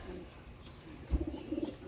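Racing pigeons coo softly in their loft, a few low throaty coos near the end over a quiet background, close by, with no speech.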